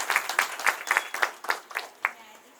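An audience claps at a cooperative credit society's annual general meeting, the applause building into a steady patter of many hands in a room, fairly close and even, with no one speaking over it.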